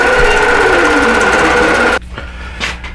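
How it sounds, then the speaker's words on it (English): A sewing machine stitches quilt blocks in a steady, loud mechanical whir for about two seconds, then stops abruptly, leaving quiet room tone and a few faint handling clicks. "I'm going to let this sew for a little bit."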